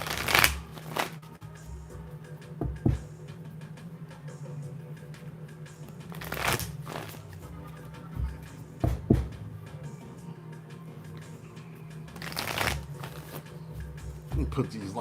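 A deck of cards is shuffled in repeated riffles, crisp fluttering bursts every few seconds over a steady low background, up close, with a voice talking around them.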